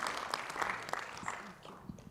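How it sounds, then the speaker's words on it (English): Applause from a conference audience at a youth forum, a brief patter of claps over a low room murmur, fairly faint and fading out within a couple of seconds. "Please clap for that."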